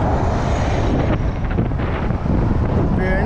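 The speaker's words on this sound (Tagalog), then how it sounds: "Mahangin ah." Strong wind buffets the microphone on a bridge during a bike ride, a loud, continuous roaring rumble that stays heavy throughout with slight surges.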